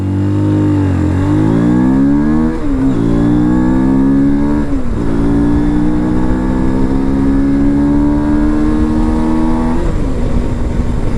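A Morbidelli T125X 125cc motorcycle accelerating hard from a standstill, its engine note climbing steeply through several gear changes with brief dips between, loud and close throughout.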